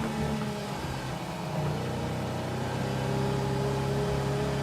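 A race car's engine drones steadily at mid pitch in the Wreckfest 2 racing game, with its tone rising slightly toward the end. It is meant to be knocking, but no distinct knocks stand out.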